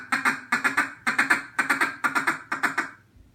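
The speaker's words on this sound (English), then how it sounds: "The feed call, the slow feed call, you're just going to go real easy to start out" A duck call blown in a slow, easy feed call: quick bursts of short quacking notes grouped in threes and fours, repeated in a steady rhythm, close and fairly loud with nothing else heard.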